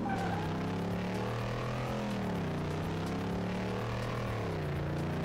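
A simulated car engine in Car Mechanic Simulator 2018 revs hard on kickdown, a loud, steady, close growl whose pitch climbs and dips as it pulls, with no talking.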